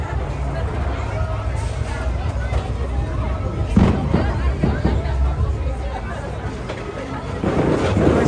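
Distant fireworks bursts pop and boom at Disneyland, several thuds scattered through a steady crowd hubbub with people talking nearby.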